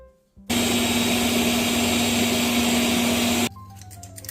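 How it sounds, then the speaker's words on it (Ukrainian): An electric mixer beats eggs with sugar for a honey cake batter, starting abruptly and droning loudly and steadily for about three seconds before cutting off. "І тепер можна збивати яйця разом з цукром"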